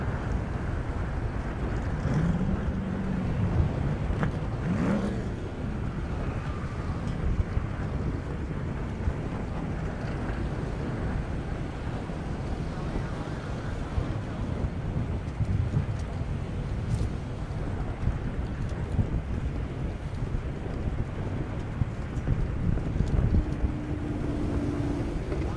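Strong wind buffets the microphone at an outdoor airstrip drag-racing event as bank sponsor flags whip about, a constant loud rumbling gust noise with occasional faint distant tones and no clear speech.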